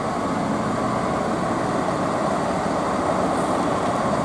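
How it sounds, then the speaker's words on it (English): A British Rail Class 168 diesel multiple unit pulls out of Banbury station, giving a loud, steady, broadband engine and rolling rumble that holds close and unchanging before cutting off abruptly. "And I'll catch this train when it departs."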